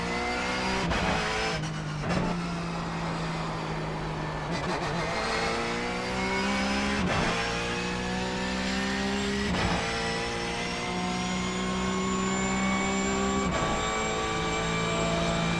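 A Porsche 911 GT3 Cup engine in iRacing revs high and hard, climbing steadily through the gears with sharp breaks at each upshift, loud and continuous close up, with no talk.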